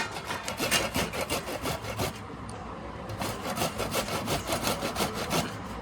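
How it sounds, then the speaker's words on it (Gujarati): Fresh corn kernels scraped against a hand grater for corn fritters (bhajiya), a steady run of rapid rasping strokes, close and fairly loud, with a brief pause midway and no talking. "આ બધા મકાઈ છીણી નાખવાના બધાય છે"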